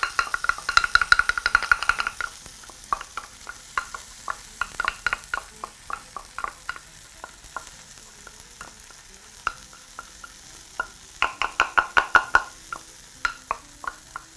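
Ginger and garlic stirred and frying in a hot pan of olive oil, with loud bursts of clinking and scraping at the start and end and steady sizzling between, no talking.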